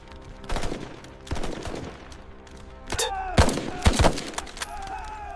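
Gunfire in combat, with several sharp separate shots and short bursts cracking out at uneven intervals, some loud and close with ringing tails, under a low background rumble.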